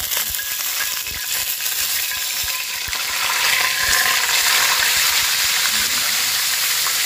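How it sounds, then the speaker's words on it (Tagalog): Jumbo tilapia frying in hot oil in a smoking pan, a loud, steady, bright sizzle that continues throughout and swells slightly midway, with no talking. "Siyempre, unahin natin, prituhin natin yung ating jumbo tilapia"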